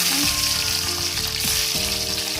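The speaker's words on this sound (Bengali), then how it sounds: "কড়াইয়ের মধ্যে তেল দিয়ে দিয়েছি, মশলাটা ভেজে নেবো।" Steady loud sizzling of spices and ginger frying in hot oil in a wok, a continuous crackling hiss with faint stirring clinks.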